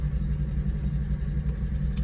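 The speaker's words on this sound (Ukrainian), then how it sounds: "Тільки виїхав з поля, як видно, трішки трактор в болоті з прицепою." A tractor pulling a trailer idles steadily just after leaving a muddy field, its low engine rumble continuous and close for the whole stretch.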